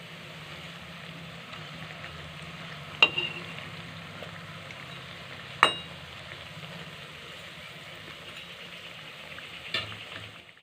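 Pakoras bubble in hot oil with a soft, steady sizzle, broken by three sharp clinks as the fritters are turned, each one clear against the quiet, even frying.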